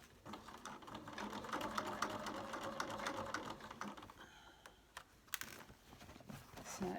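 Sewing machine stitching a hat crown to its brim, a faint close run of rapid mechanical chugging and clicking that stops partway, followed by a few scattered light clicks and handling noises.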